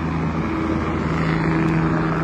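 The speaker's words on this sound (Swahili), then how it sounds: "Helikopta imefuata mtoto." A helicopter drones steadily and loudly overhead in Bukoba, Tanzania, its engine and rotor noise forming a constant roar with no voices.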